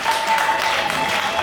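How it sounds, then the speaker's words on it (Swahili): A brief, dense burst of guests clapping at a wedding celebration, continuous and fairly loud, with a faint steady tone underneath. "Naomba tumpigie makofi mengi ya shangwe."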